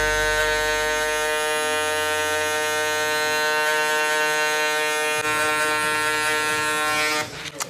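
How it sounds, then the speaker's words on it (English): An electric hair clipper buzzes steadily and loudly while cutting a mid-high skin fade, its dense even hum holding for several seconds before shifting briefly near the end. "Sorry, this clipper is a little bit loud"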